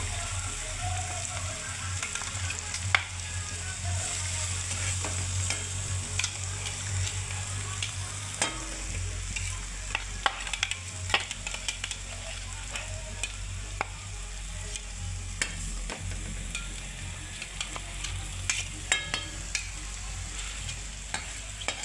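Turmeric and finely chopped, very hot green chili sizzle steadily in a pan for a simple toor dal, with a constant frying hiss and occasional light stirring scrapes close by.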